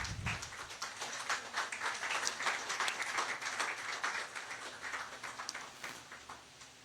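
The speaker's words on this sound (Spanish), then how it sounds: "Dele un aplauso a Dios, hermano." A church congregation claps in praise to God during a service, dense rippling applause swelling after a brief start and continuing steadily for several seconds before tapering slightly, with no speech over it.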